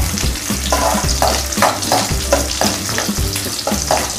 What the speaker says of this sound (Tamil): பூண்டை முத எப்பவுமே எண்ணெயில் நல்லா வதக்கிடணும்.